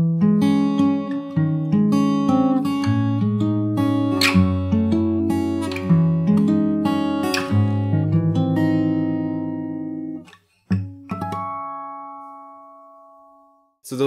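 Fingerstyle guitar ending of an emotional progression: a stream of plucked notes and chords, then a rolled chord, a brief pause and a final ringing harmonic-like strum fading out, played alone and close.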